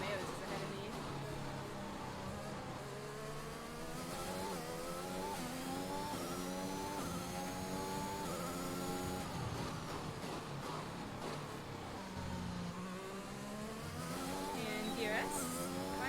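F1 race car engines in F1 2021, high revving whine climbing and dropping through gear changes, several cars close by and sustained throughout, with a voice talking over it.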